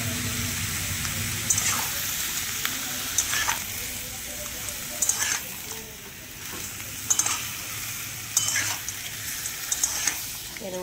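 Prawns seasoned with turmeric and salt fry in a pan, a continuous close sizzle broken by regular scraping stirs roughly every one to two seconds.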